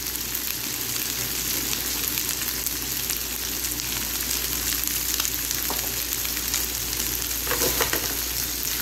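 Mutton pieces for Afghani mutton fry in a pan while being stirred, giving a steady, close sizzle with scraping stirs throughout and brief louder bursts near the end.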